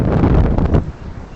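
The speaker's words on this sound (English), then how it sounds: "It's a little windy here, so it might be hard to hear." Wind gusting hard against the microphone outdoors at sunset, a loud low rumbling buffet that eases off toward the end; nobody speaks.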